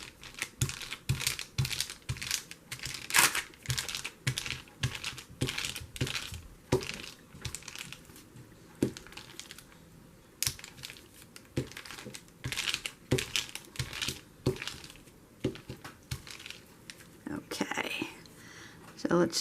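Lumpy paper with material glued on by a glue stick is handled, giving a steady run of soft, close crinkles and crackles, with quiet whispery talk now and then.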